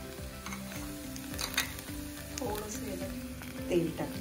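Coconut, peanuts and coriander seeds roast in a little oil in a pan, a soft close sizzle with scraping stirs and occasional clinks of a spoon against the metal.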